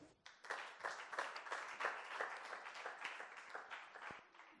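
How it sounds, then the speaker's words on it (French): Audience applauding panelists at the close of a debate event, a short round of moderate clapping from a modest crowd, faint overall and fading toward the end. "Je pense qu'il faut les applaudir."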